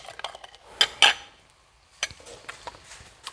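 A metal utensil clinks against a bowl while stirring a soy sauce mixture for a beef stir fry with ginger garlic sauce, with a few sharp taps and scraping clatters close up and no talking.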